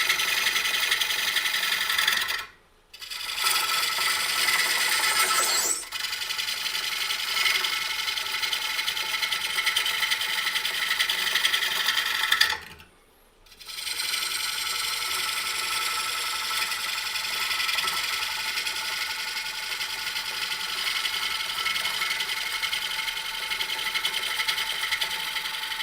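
A wood lathe cuts a recess into the bottom of a turned bowl, giving a steady, close whirring scrape that runs continuously, broken by two brief pauses where the tool lifts off.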